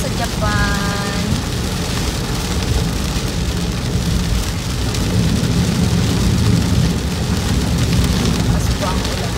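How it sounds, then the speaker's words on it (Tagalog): Heavy rain pours down in Japan in a dense, continuous hiss, with a faint voice briefly audible early on beneath the downpour. "Umuulan po dito sa Japan."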